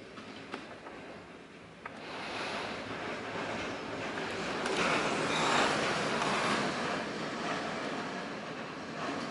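Strong storm wind gusts roar as a broad, rushing noise that swells and eases over several seconds, loud and continuous with no talk.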